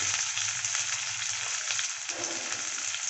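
Chopped onion and tomato with curry leaves and rock salt sauté in a pan for a spicy drumstick curry, giving a steady, close crackling sizzle that runs without a break and with no talk.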